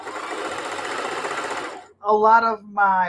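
A sewing machine running fast while quilting jelly-roll placemats gives a continuous, even, rapid stitching whir that stops abruptly, followed by a person talking close by.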